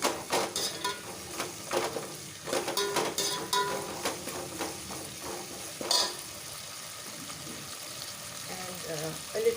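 Homemade ginger garlic paste fries in a pan, a soft sizzle under repeated scraping stir strokes and clatters, close and moderately quiet, with a voice talking at times.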